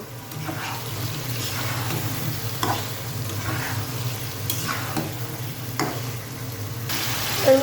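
Free-range chicken and potatoes sautéing together in a pan for a curry, a steady close sizzle with occasional spatula scrapes and clinks at intervals.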